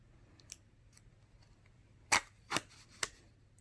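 Adhesive backing peeled off a t:slim insulin pump infusion site, heard as three sharp, close crackling rips in quick succession after a faint earlier tick, in an otherwise quiet room.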